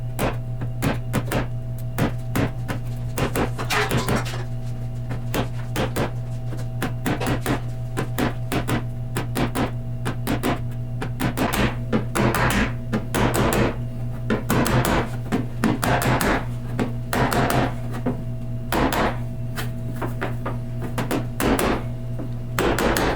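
Hammer blows on a dolly knocking a dent out of a painted metal Javelin panel, sharp repeated metallic taps in irregular bursts, close and loud over a steady low hum, with no talking.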